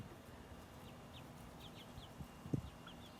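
Hens clucking with their chicks crowding around during feeding, soft scattered clucks and peeps at a distance over a faint steady background, with one closer, louder cluck near the end.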